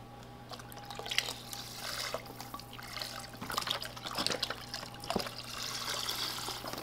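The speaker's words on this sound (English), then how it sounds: "So I'm gonna do 8 cups of vegetable broth in here." Vegetable broth pours into a soup pot for Turkish lentil soup, a soft continuous trickle and splash with faint dripping, fairly quiet and close.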